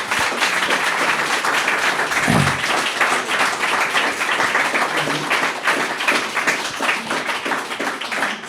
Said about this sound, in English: I think we can all, at this point, give a little round of applause to Harland Miller.